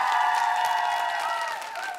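Studio audience on a Korean TV music game show erupts in steady cheering and applause as a K-pop group is introduced, a dense continuous roar with high shrieks, loud throughout and easing slightly near the end.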